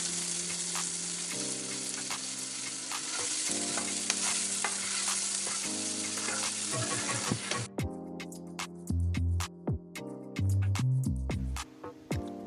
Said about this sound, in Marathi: आता आपण या कांद्याला छान असा गुलाबी रंग येईपर्यंत तळून घेणार आहोत.